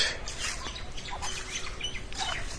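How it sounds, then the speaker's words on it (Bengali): Chinese geese kept in a netted pond enclosure call out, with harsh squawks and honks in scattered bursts at moderate distance over outdoor background noise. "হাঁস, চীন হাঁস"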